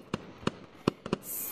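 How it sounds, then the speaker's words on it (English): Video game fireworks bursting in quick succession, five sharp close pops at uneven intervals, followed by a rising hiss at the end. "the fireworks going insane"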